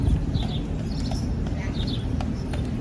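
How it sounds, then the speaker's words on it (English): A horse walks along a downtown Charleston street, hooves clip-clopping steadily at moderate distance under continuous city and crowd noise. "Oh, we got a beautiful horse over here."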